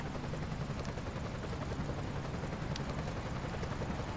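Rescue helicopter in the firefighting game Emergency 5, a steady loud rotor chop and engine whine that holds evenly throughout, with no talk.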